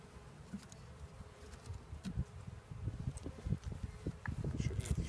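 Honeybees around a queen bank in a beekeeping setting, a soft continuous buzz with scattered nearby wingbeats and small clicks and handling knocks, fairly quiet and with no talk.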